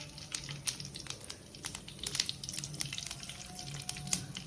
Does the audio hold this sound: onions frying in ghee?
yes